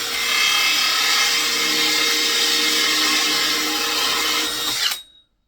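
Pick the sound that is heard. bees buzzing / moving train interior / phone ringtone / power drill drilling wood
power drill drilling wood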